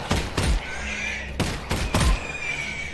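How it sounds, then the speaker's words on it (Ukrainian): Gunshots in the VR video game Half-Life: Alyx, several loud close sharp blasts in quick bursts with booming low tails, no talk over them. "Ну, до речі, непогані постріли."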